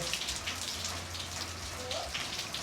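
Heavy rain patters steadily on a surface, a continuous hiss of dense drops with a low hum underneath and no clear talking.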